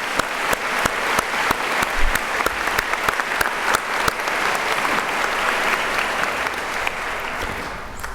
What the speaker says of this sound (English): So one final round of applause.